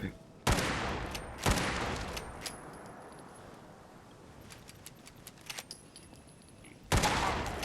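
Gunfire in the video game Fallout 4: three loud, sharp shots, two close together near the start and one near the end, with faint rattles and clicks between.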